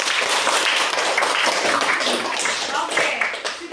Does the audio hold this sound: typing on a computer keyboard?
no